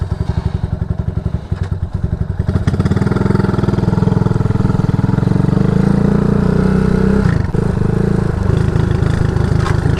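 A Honda CG250 motorcycle fitted with a Kipa 28mm flat slide carburetor runs loud and close, its engine chugging steadily before revving up and holding a strong, even drone, with a brief dip near the end.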